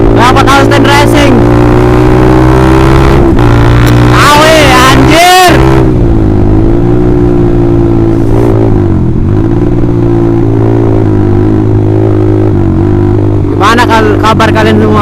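Close by, a Honda CBR150R fitted with a knock-off Austin Racing exhaust settles into a loud, throbbing idle, while quick revs flare near the start, a bigger surge around five seconds, and another burst at the end.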